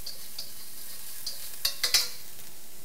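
Shallots and garlic sizzle softly in a splash of oil over medium-high heat, quiet frying broken by a few sharp clinks of a utensil against the pan near the end.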